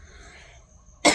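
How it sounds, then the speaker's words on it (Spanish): A single harsh cough bursts out close and loud after a second of quiet room tone, a sudden broadband blast with nothing else around it. "Pero ahí vamos bien con la tos"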